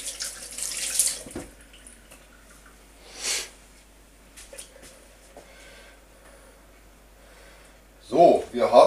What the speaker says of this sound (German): Kurz Hände waschen.